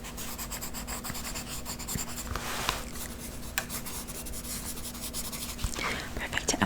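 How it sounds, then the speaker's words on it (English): A pen writing notes on paper during a soft-spoken medical examination, a steady quiet scratching and rubbing that carries on throughout, with a few light taps and no talking over it. "Let me just write that down."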